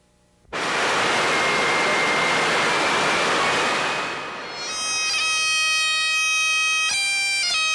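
Water pours steadily down the Transco Tower water wall, a loud, broad rushing wash that thins slightly midway, while faint high tones ring out over the torrent toward the end.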